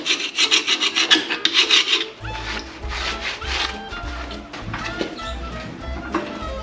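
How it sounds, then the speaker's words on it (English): Close, rhythmic rasping strokes scrape old pinion seal residue, dirt and rust off a vehicle's rear end, with rapid back-and-forth scraping first and then slower, heavier scrapes over a low rumble. "Get any of that old seal off of there. Dirt, grime, rust, whatever might be on there."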